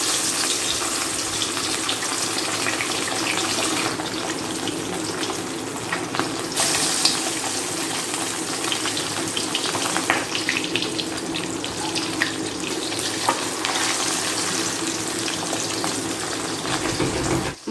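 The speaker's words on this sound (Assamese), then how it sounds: "মই তেল দিছোঁ তেলটো গৰম হৈ গৈছে মই ইয়াতে এটা এটাকৈ মাছ পেলাই দিছোঁ" Whole fish dropped one by one into hot oil fry with a loud, continuous hiss and crackle that swells and settles for a long stretch, with no talk.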